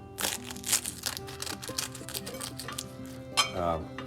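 A knife crunching through the crispy baked crust of a spaghetti bake with beef sauce, giving a series of close, crackly cuts and light clinks, while someone talks quietly underneath.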